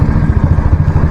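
A Royal Enfield Standard 350 classic motorcycle's exhaust thumps in a loud, close, steady, rapid pulsing beat, with no voices.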